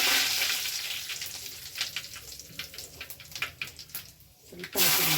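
Curry leaves sizzle and crackle as they fry in hot oil in a pan for a spinach gravy, a dense, steady frying hiss with sharper spitting pops, close and loud, ending in a brief louder burst.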